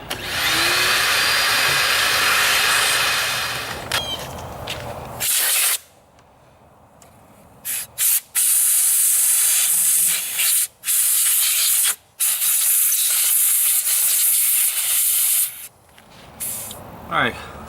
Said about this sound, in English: I'm going to turn on my vacuum again.